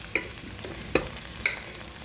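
A spoon stirs mutton gravy into cooked rice for biryani, with three soft scraping strokes spaced about half a second apart over a low steady background.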